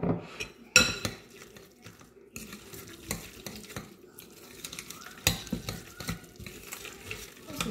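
Food gets stirred in a frying pan with hot sauce and salt, giving scattered scraping and clinking strikes against the pan over a faint sizzle, fairly quiet and irregular, with no talking.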